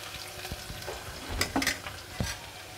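Chopped onions frying in a pan for tomato rasam, a soft steady sizzle with a few light scrapes of a stirring spoon, quiet and close with no voices.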